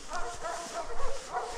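A dog gives a few soft barks and yips over a rough, noisy background, close to the microphone, with a short whimpering quality between the sounds.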